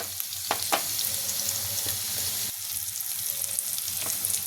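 Steady crackling sizzle of garlic and turmeric hitting hot oil for tempering, with a few sharper pops and spits, close and continuous.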